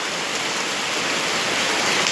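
Heavy rain pours down in a constant, hissing wash that holds even and loud throughout, with no voices over it.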